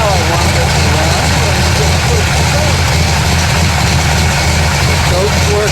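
A 426 Hemi V8 runs loud and close on its choke, with a steady rumbling idle throughout and a voice heard over it.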